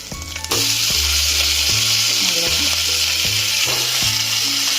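Oil sizzles steadily in a pan as tomatoes fry over golden onions, loud and close, with a soft clatter at the start and a continuous frying hiss throughout; no talking.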